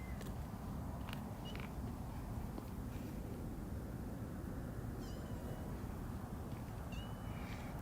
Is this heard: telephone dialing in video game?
no